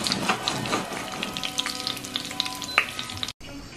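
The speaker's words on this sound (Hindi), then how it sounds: "घी हमारा गर्म हो गया, अभी मैं डाल दूंगी जीरा और मैं डालूंगी साबुत, लाल मिर्च," Whole cumin, dried red chillies and bay leaves crackle and sizzle in hot ghee, a steady close frying hiss dotted with sharp pops, continuing without talk until it cuts off near the end.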